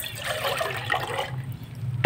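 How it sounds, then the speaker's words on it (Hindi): Half a litre of water pours into a yogurt and gram flour mixture for aloo kadhi, a close liquid gush and splash lasting about two seconds with a brief clatter at the end. "आधा लीटर मैंने इसमें पानी डाल दिया है"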